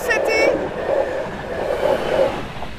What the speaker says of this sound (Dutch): Dit is de Intercity Eindhoven-Den Haag. En die wordt getrokken door de tracks.